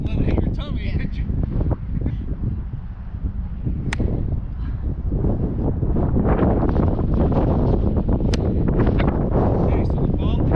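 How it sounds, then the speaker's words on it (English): Gusty wind blowing steadily across an outdoor baseball batting practice area, a loud broadband rush buffeting the microphone throughout, with a voice talking over it. "so the wind's coming this way"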